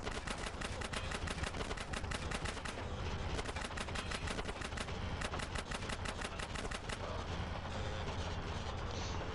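Rapid bursts of gunfire fill a GTA San Andreas gang shootout, dense and continuous over game music and effects, with repeated volleys throughout.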